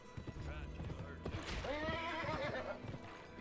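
Horse neighs and clopping hooves from the Western video game Gun on PS2, a whinny rising over a steady trot of hoofbeats near and clear, with game music and effects underneath.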